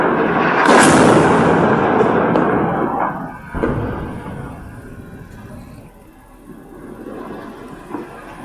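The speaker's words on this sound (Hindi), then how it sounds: "तो ये जोरदार धमाका आपने सुना।" A loud, heavy blast from an Israeli airstrike in Lebanon erupts and rumbles on, followed by a second thud and a long, fading roar of debris and distant reverberation.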